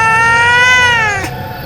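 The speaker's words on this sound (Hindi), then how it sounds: "ये काली बिल्ली तेरा है?" A black cat gives one long, drawn-out meow at close range, loud and clear. The cry is heard alone, with no one speaking.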